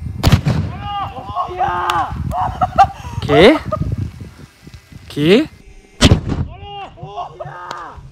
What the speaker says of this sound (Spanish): queremos derribar la montaña a cañonazos